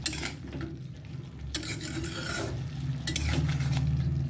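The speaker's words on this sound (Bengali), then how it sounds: "এটা ভালো করে নাড়াচাড়া দিয়ে একটু মিশিয়ে দেবো" Malabar spinach and pumpkin being stirred in a pan over a low gas flame, a continuous scraping, rubbing stir with soft sizzling underneath, steady and close, growing slightly louder toward the end.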